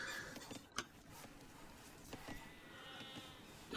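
Faint sheep bleats from a real-time strategy video game sound over quiet ambient game noise, with a single short, sharp click or tap near the start.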